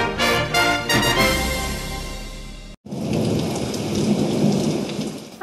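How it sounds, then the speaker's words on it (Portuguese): A thunderstorm with heavy rain: a loud rolling thunder rumble dominates the first half, then cuts to a dense, steady downpour hissing on surfaces. "As chuvas chegaram"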